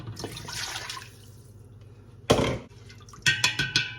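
Water splashes and pours into a cooking pot of greens with dripping and sloshing, then a louder burst of pouring followed by several short splashy bursts, close and alone.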